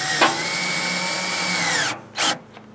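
A power drill drives a self-tapping screw into pre-drilled holes on an old wood stove, whining steadily at high speed before stopping, followed by a brief second burst.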